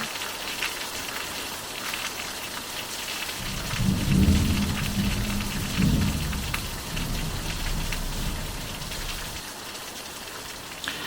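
Steady rain pours down during a thunderstorm in the Algarve, Portugal, with a long, loud rumble of thunder rolling in around the middle and fading out, while a continuous hiss of rainfall carries on throughout.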